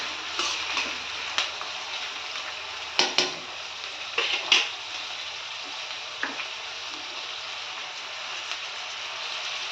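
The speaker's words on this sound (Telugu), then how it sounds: "కొంచెం ఆయిల్ వేడైన తర్వాత ఉల్లిపాయలు వేసేసుకొని" Sliced onions dropped into hot oil for a raw prawn and green mango curry, sizzling steadily up close, with a few sharp clinks of a utensil against the pan.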